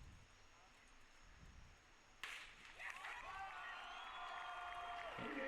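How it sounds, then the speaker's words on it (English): A crowd of about 3,000 spectators at a one-mile track race starts cheering and clapping in the distance, swelling from quiet into a sustained roar under a commentator's voice. "We're off, and you can hear the crowd."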